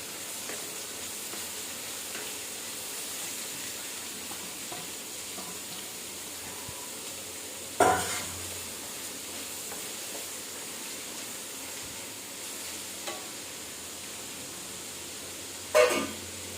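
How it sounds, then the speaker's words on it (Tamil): Finely chopped onions sizzle in hot oil for chicken curry with a constant, gentle frying hiss, broken by a few louder clunks of stirring. "வெங்காயத்தை பொடி பொடியாக நறுக்கி அதை வதக்கணும்."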